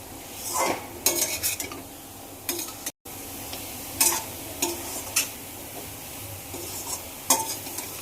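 Chicken gravy being stirred in a pan, with intermittent scraping and clinking strokes of a utensil against the metal over a soft continuous sizzle, several bursts spread unevenly across the stretch, fairly close and moderately loud.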